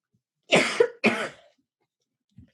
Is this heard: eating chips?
no